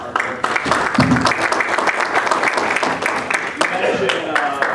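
Attendees at a Chaldean community outreach meeting applaud, loud close-up clapping mixed with voices and crowd chatter running continuously throughout.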